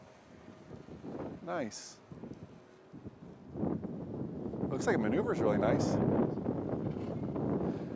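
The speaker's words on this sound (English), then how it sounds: "we got the wind kind of coming at you now" Wind gusts across an outdoor field during the first flight of an Autel Evo drone, buffeting the microphone as a steady rushing noise that grows louder in the second half, under close conversation.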